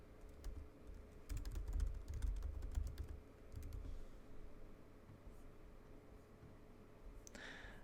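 Quiet, rapid clicking of keys on a computer keyboard, with a Mac setup, in short bursts that thin out into faint room hiss.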